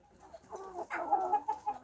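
Chickens eating their evening feed on a farmyard give off a short run of soft, close clucks and murmurs, fairly quiet and alone.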